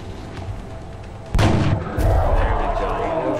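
Soldiers firing weapons during a turn-based battle in the X-COM: Enemy Within video game, with two sharp, loud shot bursts about half a second apart, the second followed by a sustained rumble, over a steady game background.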